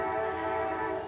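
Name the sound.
distant train and train horn at night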